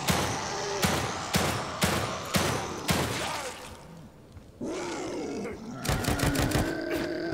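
Rapid bursts of gunfire from a gun in The Evil Within 2, loud and close, in several clusters of sharp shots with brief gaps and a creature-like growl between them.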